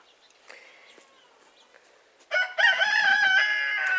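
A rooster crows loudly inside a farm chicken coop, one long harmonic cock-a-doodle-doo breaking in after a couple of seconds of quiet clucking and faint bird calls, close and dominant.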